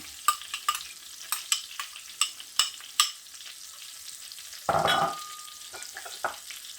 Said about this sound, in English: I'm adding my white onions